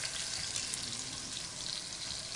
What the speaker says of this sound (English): You can see we're not really cooking it, we're just searing the outside.